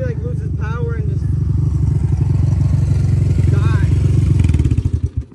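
A minibike engine buzzes and revs hard for several seconds in fifth gear, then sputters and loses power, fading out in a few uneven pulses at the end, with a voice talking over the engine.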